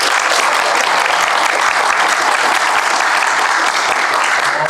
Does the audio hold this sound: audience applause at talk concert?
yes